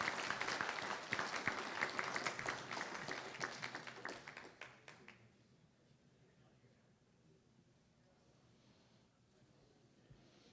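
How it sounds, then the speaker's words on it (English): Applause from a ceremony crowd at a 2015 CanBIM certification event in Toronto, greeting a recipient: dense, steady clapping for about five seconds that tapers off into a quiet room. "Might as well give him a round of applause"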